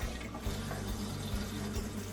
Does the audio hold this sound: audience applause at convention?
no